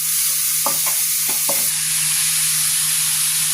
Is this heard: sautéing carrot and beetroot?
yes